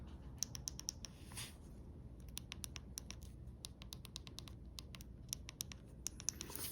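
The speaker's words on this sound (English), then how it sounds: "So the buttons are very clicky." Rapid, crisp clicking of phone buttons through a MOUS Limitless aramid fiber case on a Google Pixel 10 Pro XL, with bursts of close, sharp clicks repeating in quick runs against a quiet background.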